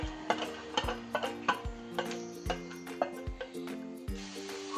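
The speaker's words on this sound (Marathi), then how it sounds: "गवारी थोडीशी भाजून घेते" Cluster beans (guar) being roasted in a pan with a little oil, the spoon knocking and scraping the pan in a steady series of close, distinct strokes under a soft background sizzle.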